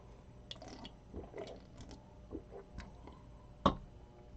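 Quiet, close sipping with soft slurps and small liquid splashes, ending in a sharp click.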